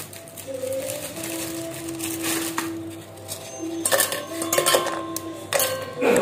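Parle-G biscuits, three packets' worth, are snapped by hand and dropped into a mixer jar for a cake. Close crackling breaks come with scattered clinks and taps against the jar, with no talking.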